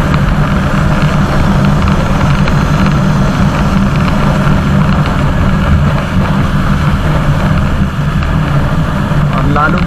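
Two motorbikes ride side by side at a steady moderate speed on the way to the Kondhana Caves, making a loud, constant, wind-buffeted engine drone close to the recorder.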